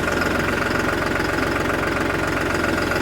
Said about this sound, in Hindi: 3630 स्पेशल एडिशन की आवाज़ तो आप लोग ज़्यादातर जानते ही हो